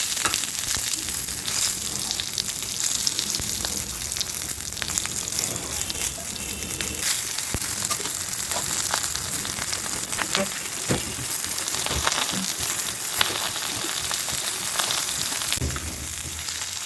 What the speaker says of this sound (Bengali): স্লো হিটে এপিট ওপিট করে ভালো করে ভেজে নেব অনেকক্ষণ ধরে।